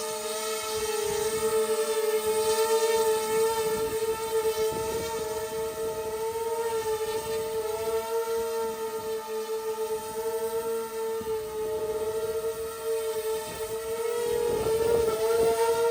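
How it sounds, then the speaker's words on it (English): A 3D printed tilt-rotor VTOL drone hovers in place, its rotors giving a loud, steady tonal whine with stacked harmonics that stays near and constant throughout, with small wavering in pitch and no voices. "This hover test is used to check stability and control response in vertical flight."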